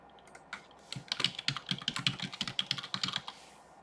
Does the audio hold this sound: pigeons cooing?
no